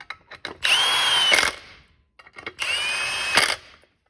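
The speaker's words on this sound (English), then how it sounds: "Okay, these Torx bolts are going to be torqued to 45 foot-pounds." Power drill driving Torx bolts on a Can-Am X3 adjustable helix: two loud whirring bursts about a second long each, separated by a pause, with a pitch that dips and settles as the bolts seat, no talking.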